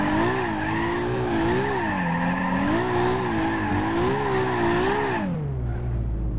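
A Toyota Supra in the BeamNG.Drive game drifts sideways down a flight of stairs, tires squealing with a wavering, warbling pitch over a loud engine drone for about five seconds before the squeal cuts off abruptly.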